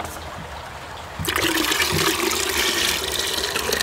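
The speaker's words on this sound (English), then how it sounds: "And we pour it into the bucket." Water poured from one bucket into another at Fort Roberdeau: a sudden, loud, close splashing gush that starts abruptly and keeps rushing steadily, with no talking.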